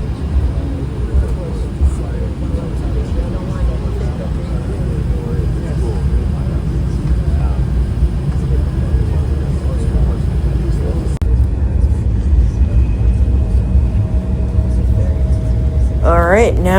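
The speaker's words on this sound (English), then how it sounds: "So now taxiing to our runway, very quick taxi" An airliner taxiing quickly to the runway early in the morning, heard from inside the cabin as a steady low engine rumble and hum that holds throughout, with a slight shift in tone near the end.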